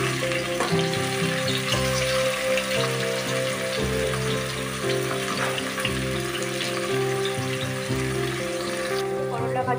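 Turmeric- and salt-coated bitter gourd pieces fry in hot oil with cumin seeds, a loud, dense crackling sizzle with occasional stirring clatter, continuous throughout.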